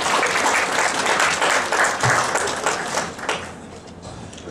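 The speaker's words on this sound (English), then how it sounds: "Let's give them a round of applause" Audience applauding after a US Public Health Service Christmas Eve performance, dense sustained clapping from a large crowd that thins and fades toward the end.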